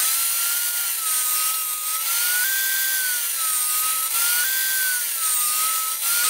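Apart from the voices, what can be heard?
saw ripping thin cedar strips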